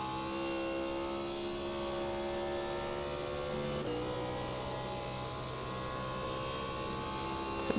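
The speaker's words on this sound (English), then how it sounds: "you'll hear every throttle input, you'll hear everything as they fly through these corners" NASCAR race cars in a racing video game drone steadily, with sustained engine tones that shift in pitch as the throttle is worked, continuous and fairly loud with no talk over it.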